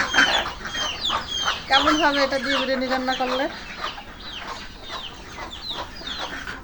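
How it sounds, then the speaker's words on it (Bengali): The largest rooster in a farm flock clucks repeatedly at close range in short, irregular bursts, while someone talks over the calls. "এই মোরগটা হচ্ছে আমার পালের সবচেয়ে বড় মোরগ"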